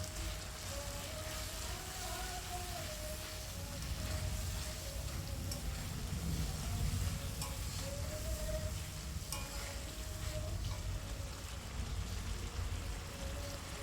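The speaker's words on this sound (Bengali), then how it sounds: "তো দেখো আমি বেশ সুন্দর করে কষাচ্ছি মশলাটাকে" Spice paste of cumin, coriander, ginger, garlic and dried red chilli sautés in a pan, a soft, steady sizzle with low rumbling crackle and faint stirring, quiet and continuous.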